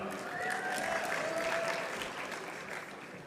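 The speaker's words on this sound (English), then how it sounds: "a round of applause for the graduates from the Heating, Refrigeration, and Air Conditioning Technicians program" Soft, steady applause from a graduation convocation audience honoring heating, refrigeration and air conditioning technician graduates, heard at a distance and fading slightly near the end, with a faint tone lingering beneath.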